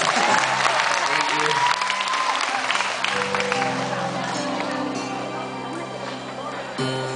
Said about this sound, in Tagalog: Palakpak lang po.